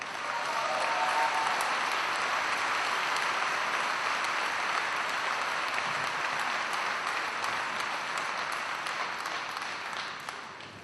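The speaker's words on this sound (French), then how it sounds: "C'est gentil d'applaudir" Sustained audience applause at a union solidarity gathering for SBFM workers in Lorient, a dense steady clapping from a large crowd that holds throughout and eases slightly near the end, with no speech over it.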